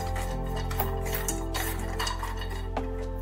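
Cashews and almonds stirred in a dry pan while roasting, giving light scraping and small clinking taps over a steady kitchen hum, close and quiet with no talking.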